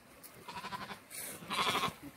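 Week-old Hissar ram lambs bleat in two short, close bursts, the second louder and longer, with no talking.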